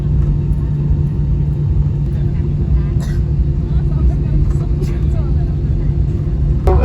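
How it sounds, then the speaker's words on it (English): An Airbus A320 taxiing toward the runway, heard as a steady, loud low engine rumble that continues without a break, with faint muffled voices in the background. "Now the plane is taxiing to the runway."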